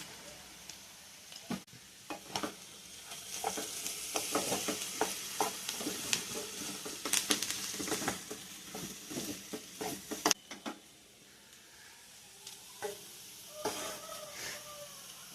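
Potatoes fry in a pan while being stirred, soft sizzling under scattered scraping and clinking strokes of the spoon, irregular and close, fading to quieter sizzle near the end.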